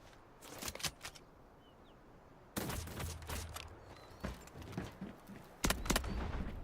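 Bursts of distant gunfire in the video game Delta Force, clusters of sharp cracks in short irregular volleys over a quiet ambient background.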